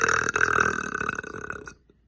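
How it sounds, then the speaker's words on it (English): A single long, loud, close burp rumbles for over a second and a half, then cuts off into silence. "These damn burps don't want to come out."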